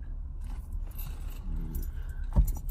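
Post office keys jangle as they are pulled out of a pocket, a short close metallic rattle with a sharper clink near the end.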